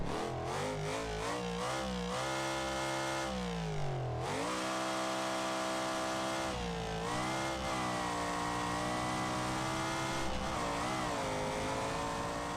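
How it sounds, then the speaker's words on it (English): A V8 engine in the Autron JSP mod for BeamNG.Drive revs hard and loud, pitch sweeping up through the gears with a sharp drop near the start and repeated climbing pulls, no talk over it. "I think this is my personally the most best sounding V8 I've heard in BeamNG.Drive"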